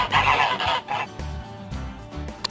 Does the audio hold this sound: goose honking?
yes